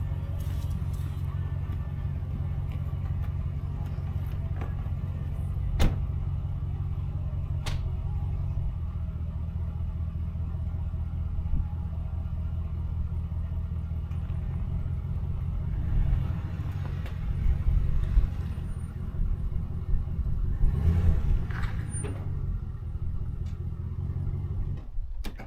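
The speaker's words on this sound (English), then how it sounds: "So I'm just gonna move the truck since I've already started it." A truck engine idles with a steady low rumble, then revs and rumbles louder as the truck is moved, with a few faint clicks and knocks along the way.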